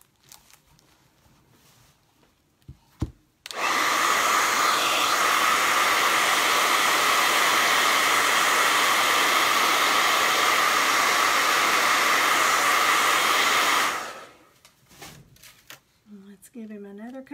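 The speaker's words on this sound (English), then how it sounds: "let me get this one with the hair dryer real quick" A hair dryer blows on a painted canvas with a steady, loud, breathy roar for about ten seconds, switching on abruptly and off again, with quiet moments on either side.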